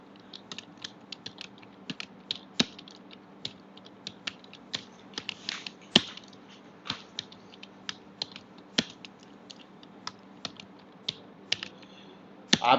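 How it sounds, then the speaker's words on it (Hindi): A computer keyboard is typed on in an office setting. Sparse, irregular key clicks tap at an unhurried pace over a quiet background, with occasional louder sharp presses and no speech. "मैं यहाँ पर हिंदी में मान लीजिए टाइप करता हूँ"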